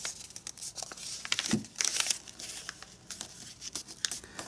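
Paper being creased and folded by hand into an origami iPhone case, giving soft, irregular crinkles and rustles that come in close, scattered bursts with no talk.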